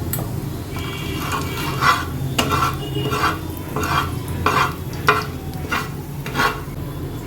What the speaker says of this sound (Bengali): অল্প জিরে ফোড়ন দিয়ে দিলাম জিরেটা গরম হয়ে যায়